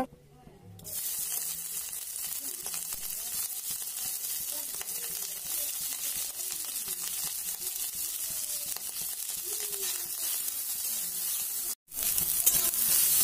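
Boiled snails, coated in salt and turmeric, fry in oil in a wok with a continuous, close hissing sizzle and occasional stirring scrapes, dropping out for a moment near the end before resuming.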